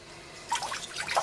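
Water from a rinsed cyanotype print: after a quiet moment, a short cluster of soft close drips and trickles, no talk.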